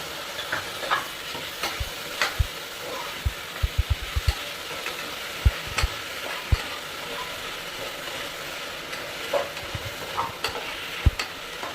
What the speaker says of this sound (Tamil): இதெல்லாம் ஒரு 5 நிமிஷம் வதக்கிக்கலாம்